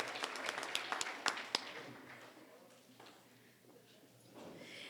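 Audience applause for students at a school award ceremony: a burst of scattered hand claps from a room full of people, strongest at the start, then thinning and tapering to a quieter, looser patter.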